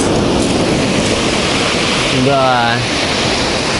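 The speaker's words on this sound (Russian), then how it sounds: "Волны доходят до сюда." Sea waves wash continuously onto the beach at Sochi, a loud, wind-buffeted roar of surf close to the microphone, while someone briefly speaks and a short voice-like sweep cuts across the noise.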